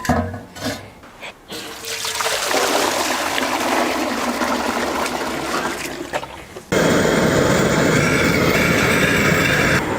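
Water pours steadily into a pot on a stove for cooking rice, a rushing splash that shifts into a fuller, louder gush partway through, close up and with no talking.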